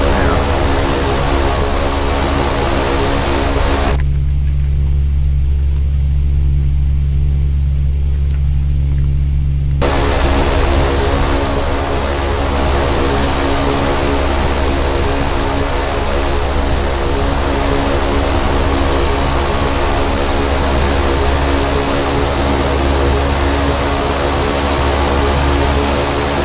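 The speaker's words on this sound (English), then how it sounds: "Watch this aircraft take off." Carenado B200 King Air turboprop taking off in X-Plane 10, a loud, sustained propeller drone and engine rumble, with a brief stretch where the high whine drops away before the full roar returns and holds steady.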